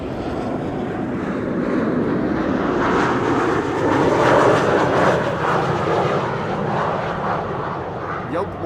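Jet airliner arriving at Amsterdam Schiphol Airport on a frosty, sunny day, heard as a broad, sustained roar that swells midway and then eases, with wind buffeting the microphone throughout.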